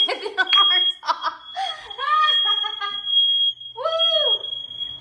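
Kitchen smoke alarm shrieking with a sustained high piercing tone while food bakes, as people laugh and talk loudly over it.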